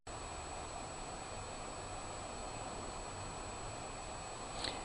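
A heat gun blowing hot air to melt solder while replacing a USB port, giving a steady, even hiss of rushing air that holds constant throughout, with a faint click near the end.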